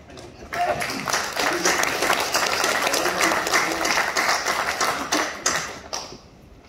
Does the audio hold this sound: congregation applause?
yes